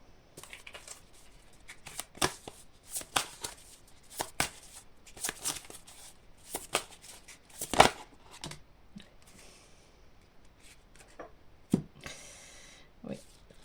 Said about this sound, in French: Je vais tirer une dernière carte.